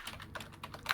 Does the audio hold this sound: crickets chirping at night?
no